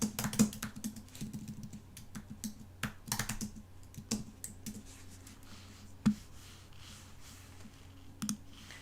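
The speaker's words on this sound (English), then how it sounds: "I can't type." Fingers type on a computer keyboard, with quick bursts of key clicks early on thinning to sparse, isolated taps, close and fairly quiet with no talking.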